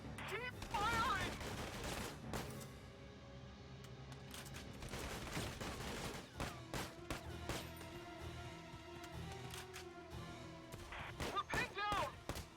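Bursts of gunfire and rapid automatic fire in the strategy game Valkyria Chronicles 4, dense battle sounds running through the whole stretch, with game voices shouting over the shooting.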